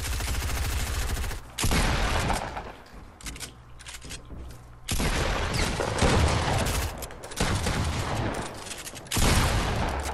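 Pump shotgun blasts and surrounding gunfire in Fortnite Battle Royale, loud and dense bursts that recur through the clip with brief lulls between volleys.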